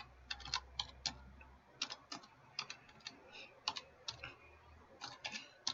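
Quiet, close keystrokes tapping out irregular bursts on a computer keyboard, soft clicks with short pauses and no talking, over a faint low hum.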